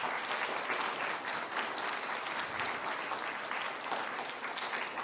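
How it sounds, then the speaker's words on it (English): A large audience at a declamation contest finale gives a judge a big round of applause, dense continuous clapping that holds steady throughout. "A big round of applause for her."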